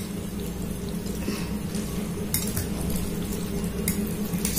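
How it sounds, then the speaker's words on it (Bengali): Korean spicy ramen noodles stirred and mixed in a pan, a steady close scraping and sizzling churn with soft clinks of a utensil against the metal, no voices. "সবটা মিক্স করে ফেলবো।"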